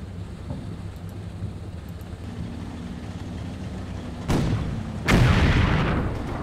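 Heavy gunfire in the Combat Mission Red Thunder war game, with two sharp loud booming blasts whose rumble lingers over a low engine drone, without any talking.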